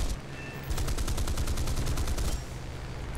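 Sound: aircraft gunner gunfire in the video game War Thunder

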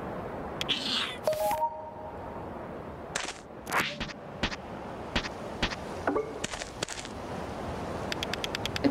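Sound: cat meowing in video game A Space for the Unbound

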